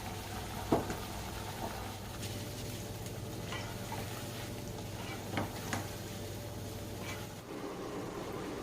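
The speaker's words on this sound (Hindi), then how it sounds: "और मीडियम टू स्लो गैस पे इसे अच्छी तरह से फ्राई करेंगे।" Shakarpara dough pieces fry in hot oil over a medium-low flame, giving a steady, even sizzle and bubbling with a few soft clinks and stirring knocks; no talking.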